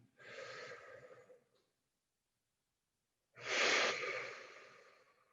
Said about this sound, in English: Another big breath.